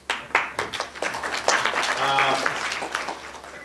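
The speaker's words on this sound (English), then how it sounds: "I really want to give you a hand applause" A burst of clapping and applause from a panel audience, with people talking over it throughout.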